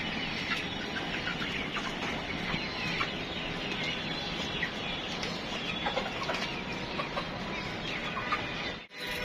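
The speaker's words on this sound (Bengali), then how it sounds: "এখন কত বড় মোরগ" Roosters and hens on a small natural poultry farm, clucking and calling steadily over a continuous noisy background, close and fairly loud throughout with no speech.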